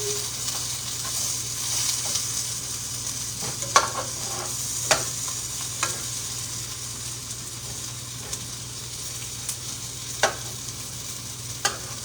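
Potatoes frying in a pan hiss steadily throughout, with a few sharp scrapes and clacks as they are turned over, close by and with no one talking.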